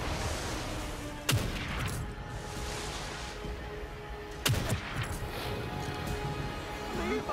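Sniper rifle shots in the horror game The Evil Within 2, two sharp isolated cracks several seconds apart over a dense, noisy background of game ambience.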